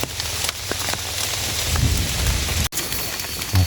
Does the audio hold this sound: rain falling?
yes